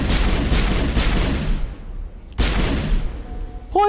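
Bursts of gunfire in Mass Effect, fired as green poison rounds: two dense, loud volleys separated by a short lull, with a faint tonal chirp at the end.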